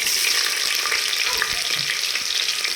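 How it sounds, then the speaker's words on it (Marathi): Sliced onion with mustard seeds and cumin sautéing in hot oil in a pan, a steady, close sizzle running throughout with faint stirring scrapes and no talk. "कांदा चांगला गुलाबी कलरवर आपल्याला परतून घ्यायचा"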